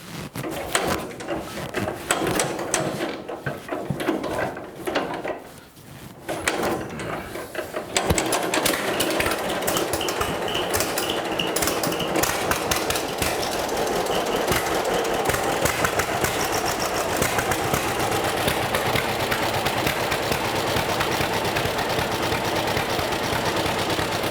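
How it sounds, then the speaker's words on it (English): A hand-cranked tractor engine is turned over by its flywheel in a shop, giving rapid rhythmic mechanical clatter and chugging. The sound starts uneven and then settles into a loud, continuous run. "This is a hand crank tractor, so we're just going to turn the flywheel over"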